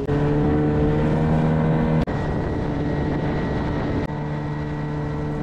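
A small boat's outboard engine that cannot be shut off runs close and loud near Cooper Island, a steady droning hum with strong tonal whine, broken by two brief clicks or knocks.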